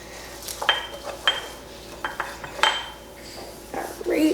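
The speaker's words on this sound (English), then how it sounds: "now I'm going to scrape the sides and bottom of my bowl" A spatula scraping the sides and bottom of a mixing bowl of Italian cream cake batter, several short scrapes and clinks against the bowl at close range, fairly quiet with no voices.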